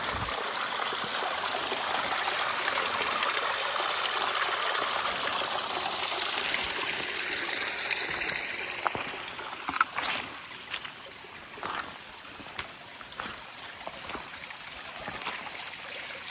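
A small mountain stream pours down a slope on the Appalachian Trail as a continuous, near rushing flow. Partway through, the flow eases slightly and scattered sharp taps and knocks break in over the water.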